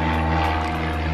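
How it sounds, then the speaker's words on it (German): A propeller airplane passes overhead outdoors, a loud, steady droning engine hum that fills the whole short stretch with no talk. "Kommt hier gerade ein Flugzeug rüber,"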